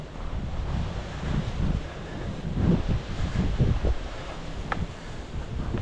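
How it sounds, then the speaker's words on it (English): Steady outdoor wind buffets the microphone in a broad, continuous low roar with gusty swells, heard alone with no talk. "windy out."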